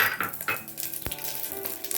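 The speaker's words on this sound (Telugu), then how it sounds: "ఆవాలు చిటపట అనగానే జీలకర్ర వేసుకోవాలండి" Mustard seeds splutter and crackle in hot oil, close by, with a sharp pop near the middle and light utensil clinks.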